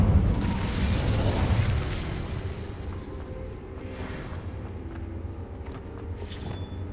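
The Incendio fire spell goes off in Hogwarts Legacy as a loud, rumbling fiery burst that gradually dies away, followed by fainter crackles and a bright shimmering flare near the end.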